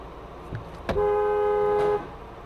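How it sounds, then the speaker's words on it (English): At a gas station, a car horn sounds one sustained honk lasting about a second, loud and near, preceded by a brief thump and faint background noise. "The car behind her tries to let her know by honking before any damage is caused"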